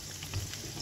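Garlic frying in a pan alongside melting fat for an Italian recipe, a soft steady sizzle heard briefly and alone at low level.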